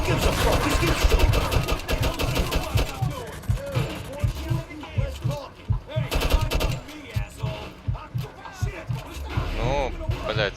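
Gunfire in the video game Mafia II Remaster, repeated rapid shots in bursts with a steady thumping rhythm, mixed with shouting voices and game talk.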